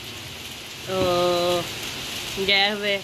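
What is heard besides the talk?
heavy rain falling outside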